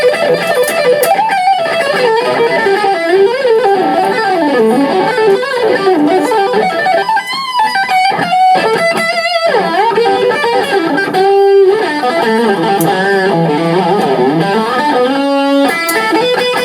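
Overdriven electric guitar, played in a Greg Howe masterclass, plays a continuous melodic line with quick note runs, hammer-ons and sustained bends, loud and steady with no voices.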